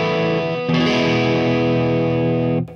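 A Gibson Les Paul Special with P90 pickups plays a sustained chord through crunch-level distortion, loud and close, ringing out steadily and then cut off abruptly, with no talking.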